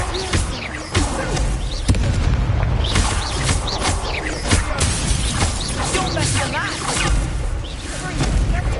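Incendio fire spell casts in the Hogwarts Legacy video game, repeated whooshing bursts and booming impacts amid chaotic combat noise, with voices heard throughout.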